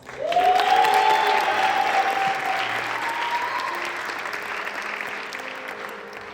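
Warm audience applause at a Detroit benefit concert welcoming a young poet to the stage, a steady clapping swell that rises quickly then slowly fades, with a whistle near the start.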